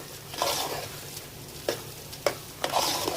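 Rice sautés in a pot until dry, giving a soft steady frying hiss broken by a few scraping stirs of a spoon against the pot, close and fairly quiet with no voices.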